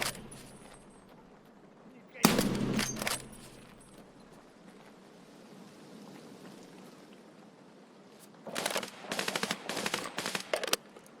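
Gunfire in a first-person shooter while fighting a scav: a loud burst of rapid shots early on, a quieter stretch of background noise, then another fast string of shots near the end.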